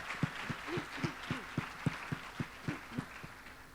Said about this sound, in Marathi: आपण जोरदार टाळ्या वाजवूयात